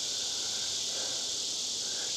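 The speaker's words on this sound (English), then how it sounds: "Listen to the bugs singing in the trees." Insects drone steadily in trees at dusk, a dense, even, high-pitched buzzing chorus that holds unbroken throughout, fairly loud and alone.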